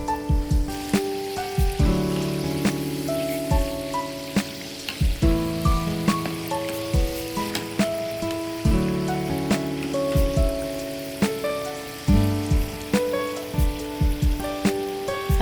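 Ghughra (gujia) pastries frying in oil over low heat, a continuous loud sizzle and bubbling with repeated light clinks and taps of a utensil in the pan.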